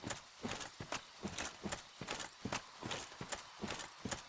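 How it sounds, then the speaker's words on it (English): Heavy metallic armored footsteps from the Dark Souls video game clank in a steady walking rhythm, a series of sharp, evenly spaced thuds, close and clear, with no speech. "As you hear my heavy footsteps of my metallic feet."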